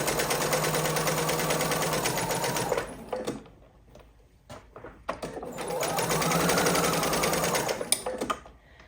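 A sewing machine stitches dog bandana fabric at a 2.5 stitch length in two steady, fast runs, whirring loudly and close, separated by a short pause filled with faint clicks and handling.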